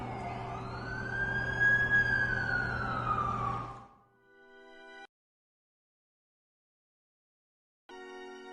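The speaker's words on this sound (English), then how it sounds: "That's the ambulance I called." Wailing ambulance siren in the video game The Amazing Spider-Man 2, rising and falling loudly over engine rumble for about four seconds before cutting to short game tones and silence.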